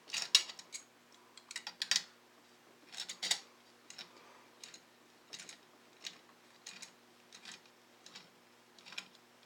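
A part is screwed in by hand while building the X axis of a RepRap Prusa Mendel 3D printer, making faint, close metallic clicks and ratchety ticks in a loose, regular rhythm.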